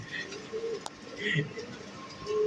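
Soft racing pigeon coos sound a few times at a moderate distance over faint background noise, with a brief sharp click partway through.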